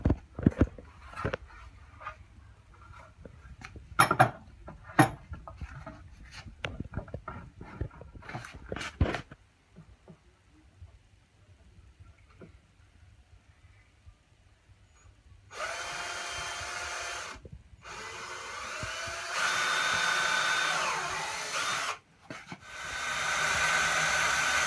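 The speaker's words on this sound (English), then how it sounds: "Now we're gonna drill the pilot holes." A power drill bores pilot holes in wood for a homemade billy cart, with clicks and knocks first, then a steady, close whirring that starts and stops in runs.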